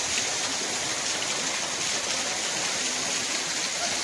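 Rainwater rushes steadily through a flooded bazaar street in Bijapur during heavy rain, a dense, continuous broadband wash of flowing water that stays even and close throughout, with no voices.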